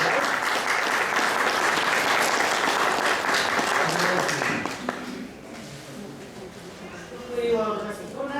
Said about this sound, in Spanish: Nuevamente les recibiremos con un fuerte aplauso.